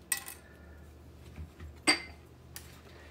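Dishes clink and clatter during washing in a home kitchen, a few sharp separate knocks of crockery and cutlery, fairly faint, spread over a few seconds with quiet between them and no talking.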